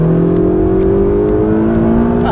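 A 2016 Ferrari 488 GTB engine pulls hard under acceleration, a loud, steady, close-up drone whose pitch climbs smoothly through the whole short stretch with no talking.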